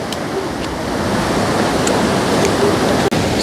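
A river rushing steadily by a roadside cooking spot in Jamaica, a loud, continuous broadband wash of water that fills the whole stretch without pause and carries no speech.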